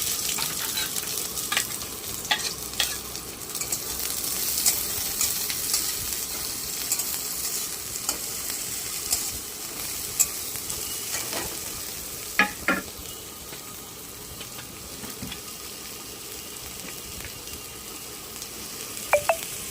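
Chopped onion and slit green chili sizzle steadily in hot oil in a pan, a continuous bright frying hiss with occasional light stirring clicks and spatter pops throughout.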